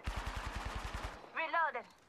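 Rapid automatic gunfire in the Apex Legends video game, about a dozen evenly spaced loud shots over one second, followed by a brief voice.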